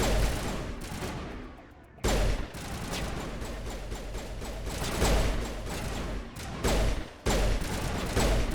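Video game gunfire in a multiplayer shooter, with bursts of rapid automatic shots and heavy bangs close by, broken by brief pauses, and faint voices now and then.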